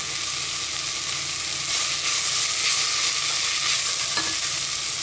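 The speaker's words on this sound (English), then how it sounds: "And I'm going to stir this again until the carrot starts to soften" Grated carrot sizzles steadily in a hot pan as it is stirred, a bright continuous hiss with soft scraping swells of the spoon, close and without talk.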